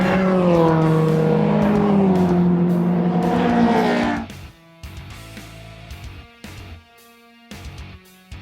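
A race car at Donington Park: a close, loud engine roar with rising and falling pitch through the chicane. It cuts off abruptly midway, leaving quieter intermittent engine bursts and gear changes.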